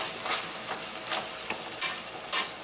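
Pieces of chicken sizzling in a pan as their released liquid cooks off, stirred with a utensil; steady close frying hiss broken by a few louder scrapes and clinks of the stirring.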